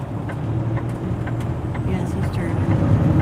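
Steady road traffic rumbles around a car in town, with the low drone of engines close by and voices talking over it.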